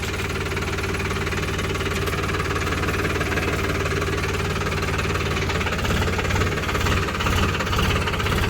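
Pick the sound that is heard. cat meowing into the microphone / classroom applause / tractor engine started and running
tractor engine started and running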